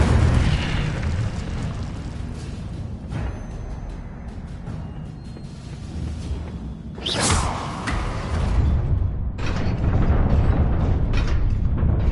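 Fire spell blasts from the Hogwarts Legacy video game: a loud explosive whoosh and boom near the middle, surrounded by dense rumbling game effects and further bursts toward the end.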